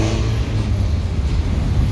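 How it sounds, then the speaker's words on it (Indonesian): A Laju Prima Jetbus 2 HDD Adiputro bus on the Bandung–Jakarta–Jambi route pulls out with a loud, close, continuous low engine rumble and revving. "Bis yang pertama keluar ada Laju Prima Bandung Jakarta Jambi LP49 Body Jet Bus 2 HDD"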